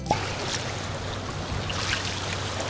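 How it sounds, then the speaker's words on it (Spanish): Steady broadband water rush from a stream at a Jordan Lake campsite, continuous and moderately near, with a low engine-like hum underneath and a few faint chirps. "Imagínense dormir con ese ruido ahí del agua, de los pajaritos"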